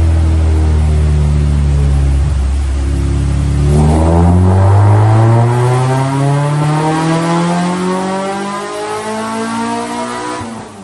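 A naturally aspirated K24-swapped Honda EK hatchback on a dyno, its engine roaring loud and close as revs climb steadily through a long, rising pull before easing off near the end.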